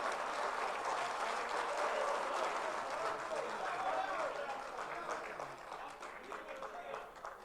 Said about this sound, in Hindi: एक बार तालियों में।